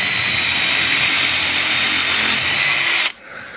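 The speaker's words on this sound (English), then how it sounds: "So I'm going to pilot hole these, and I'm going to get a couple of screws in just to get a fix in." A power drill bores a pilot hole in a wooden DIY car ramp, whining loud and close for about three seconds before cutting off abruptly into quiet.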